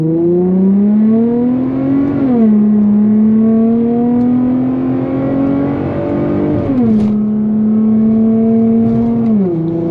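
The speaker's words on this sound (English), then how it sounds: "I don't know if you guys heard how the way the engine was like revving" An Infiniti G35's engine drones loudly nearby, its pitch climbing and then dropping sharply several times as it revs and shifts in manual mode.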